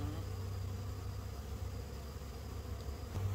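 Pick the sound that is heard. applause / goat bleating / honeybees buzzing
honeybees buzzing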